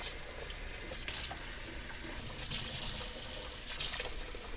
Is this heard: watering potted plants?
yes